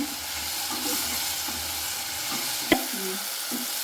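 Chopped tomatoes frying in a pan for village-style ladyfinger sambar, a soft steady sizzle with a single sharp clink of a utensil near the end.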